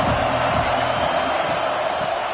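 A large stadium crowd at a college football game between Notre Dame and Michigan roars in a dense, continuous wash of cheering that stays loud for the whole moment.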